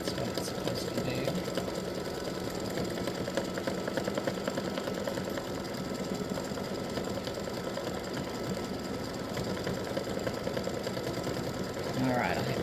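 An embroidery machine stitches out a test run of a Halloween witch and spiders design, a steady mechanical whir with fine rapid needle ticking that carries on unbroken and fairly close throughout.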